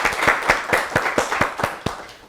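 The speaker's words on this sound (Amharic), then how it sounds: "እስቲ በደንብ አጨብጭቡላቸው ለሞራላቸው።" An audience claps at a children's TV quiz show, a short run of fairly regular, close hand claps that fade out after about two seconds.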